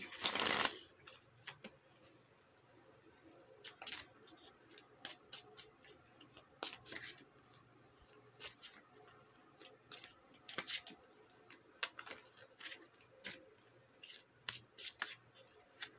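Tarot cards being shuffled: a riffle at the start, then a series of sharp, separate snaps and taps with pauses between, quiet and close.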